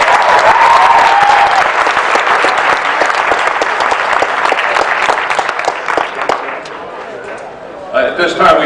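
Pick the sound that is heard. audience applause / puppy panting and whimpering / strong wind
audience applause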